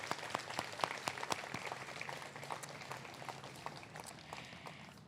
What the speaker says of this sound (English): Let's give them a round of applause for our sponsors.